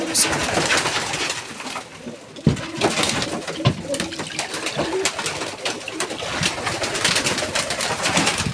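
Pigeons coo among other birds in a home loft, with chirping chicks nearby, a steady dense chorus of calls close by and a faint voice under the birds.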